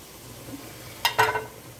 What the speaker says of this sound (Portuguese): Começou a chiar.